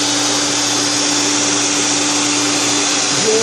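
An electric mixer beats choux pastry dough close by, giving a steady, loud motor whine that holds constant and unbroken for a few seconds with no voices.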